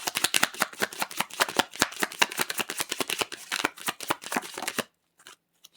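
A deck of tarot cards is shuffled by hand in a fast, crisp riffling patter that runs for about five seconds, close and fairly loud, then stops with a couple of faint taps, no voices.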